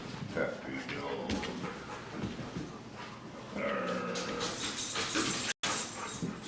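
Dog whimpering amid a busy household, thin whines and yips mixed under frequent nearby talk and background clatter.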